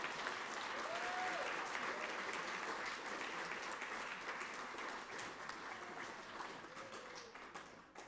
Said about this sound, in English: Charles K. Scott, can we have one more round of applause for all of our artists?